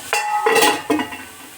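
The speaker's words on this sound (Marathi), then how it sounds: "तर आता झाकण ठेवते आणि 5 मिनटं शिजू देते याला" A lid set onto a pot of carrot halwa: a few quick metallic clinks and a ringing clatter, close and brief.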